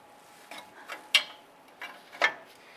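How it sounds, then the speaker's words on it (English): A 22 mm wrench tightens a bolt on the passenger-side catalytic converter of a 2002-2008 Dodge Ram 1500, giving a few faint, irregularly spaced metallic clicks against a quiet background. "Let's go ahead and tighten it down. Use your 22 millimeter wrench."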